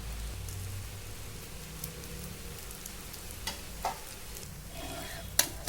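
A Konkan-style ghavan rice crepe roasts on a griddle with a soft, steady sizzle and crackle throughout, broken by a few sharp taps near the end, quiet and without voices.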